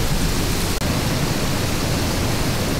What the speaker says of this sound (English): So these waterfalls, very lively today,